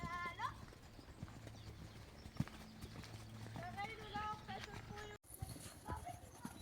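A large horse's hooves clip-clop steadily during a riding warm-up before a dressage test, with occasional whinnies and nearby voices talking over the rhythmic footfalls.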